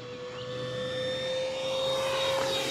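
An FMS P-47 Thunderbolt RC model warbird, 1500mm, makes a touch and go, its electric motor giving a steady high whine with a strong tonal hum that builds slightly in loudness, heard alone without talk.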